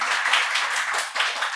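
An audience at an awards ceremony applauds the 12 finalists, a dense, steady wash of clapping from many hands that fills the room, loud and unbroken.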